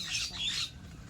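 A bird squawks near an Indian home, two harsh calls close together, loud and near, fading into quiet background noise.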